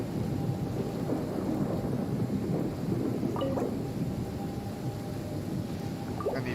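Thunderstorm weather in the game Genshin Impact, in the Inazuma region: a dense wash of rain with deep rumbling thunder rolling continuously, plus a couple of faint brief tones near the end, no speech.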